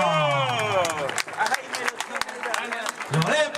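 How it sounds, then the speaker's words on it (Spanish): Crowd at an Argentine jineteada rodeo in 2011 clapping for the champion rider, a steady wash of applause and cheering that fills the whole stretch, with an announcer's voice carrying over it. "fuerte el aplauso"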